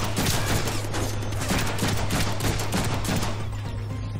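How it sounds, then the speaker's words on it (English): Sustained rapid gunfire in the Deadpool video game, dense overlapping shots rattling continuously at steady loudness with a constant low hum underneath. "Sir, there's no reason to be shooting me. Stop shooting me!"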